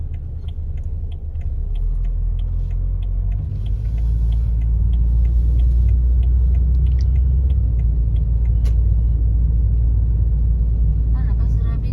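A 2002 Peugeot 406 automatic climbing a steep mountain road on Galunggung, its engine rumbling steadily and close, with people talking inside the car throughout.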